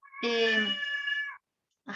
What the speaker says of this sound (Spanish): Mi gato quiere entrar.